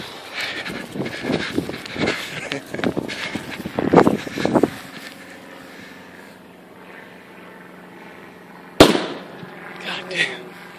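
A gunpowder-filled PVC pipe goes off outdoors with a single sharp, loud blast after a stretch of crackling bursts and voices, followed by a quieter echoing tail.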